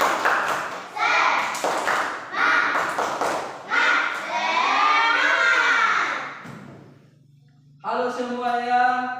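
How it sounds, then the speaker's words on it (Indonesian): A classroom of schoolchildren chant together in bursts with rhythmic claps, loud and close, their voices rising in a sustained shout before a short pause and a final chanted line. "Tepuk semangat."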